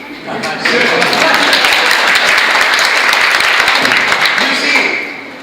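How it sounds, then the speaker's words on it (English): A crowd applauds steadily for several seconds, a dense wash of many hands clapping that swells quickly, holds, then fades at the end. "your clapping is not inspiring me to speak"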